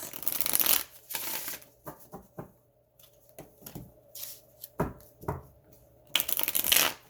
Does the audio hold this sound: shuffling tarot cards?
yes